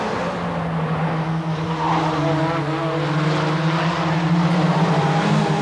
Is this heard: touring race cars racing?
yes